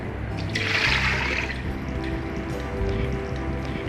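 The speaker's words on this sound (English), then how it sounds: "Pour in 700 ml of water." 700 ml of water pours briefly into an electric pressure cooker's inner pot in a rushing splash that swells for about a second, then trails into faint dripping against a low background hum.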